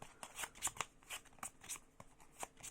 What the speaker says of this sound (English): So we're going to shuffle this up.